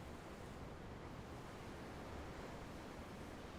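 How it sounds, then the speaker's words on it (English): Steady ocean surf and wind on a ship's deck in Tales of Arise, a continuous broadband wash with no breaks or distinct wave crests, moderately loud and unchanging. "The ocean? Yeah. The waves."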